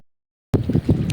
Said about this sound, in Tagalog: Lakas po yung hangin